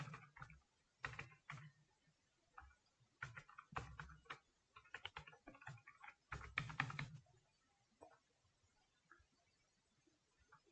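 Password being typed on a computer keyboard, quiet irregular bursts of crisp key clicks with brief pauses between clusters, heard alone.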